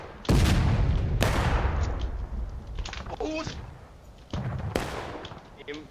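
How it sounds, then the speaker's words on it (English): Union infantry at a Civil War reenactment fire musket volleys, several sharp ragged cracks that roll out into echoing rumble, spread over a few seconds with outdoor ambience in between. "Union rips off a volley down the roadway there"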